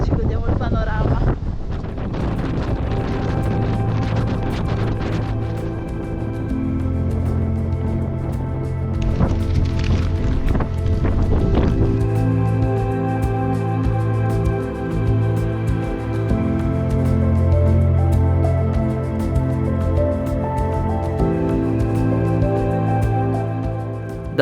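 Strong wind roars and buffets steadily around the summit of Cerro Ferrier in Tierra del Fuego, loud and continuous, with a few harder gusts.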